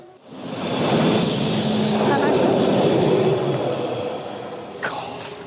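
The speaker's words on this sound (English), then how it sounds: "Oh, there's a train coming actually." A train passes on a railway line beside a level crossing in Bradford-on-Avon, Wiltshire, a loud close rumble and hiss of wheels and carriages that swells quickly and holds, with a brief squeal near the end.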